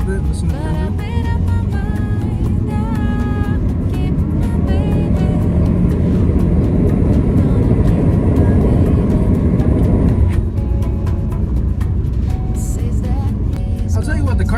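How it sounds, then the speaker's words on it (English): A 2021 Nissan Altima SR's engine drones loudly from inside the cabin as it accelerates from about 20 mph under throttle, a steady rising hum with road roar that eases slightly partway through. "I'm going to put my foot on the throttle a little bit, listen to the engine"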